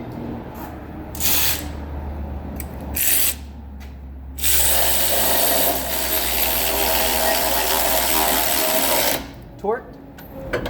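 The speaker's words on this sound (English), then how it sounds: "we're going to tighten the caliper bracket up first" A power tool tightens brake caliper bracket bolts on a car during a brake pad and rotor job, short buzzing bursts followed by a long sustained rattling run, close and loud, with people talking faintly.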